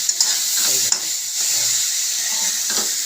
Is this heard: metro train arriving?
no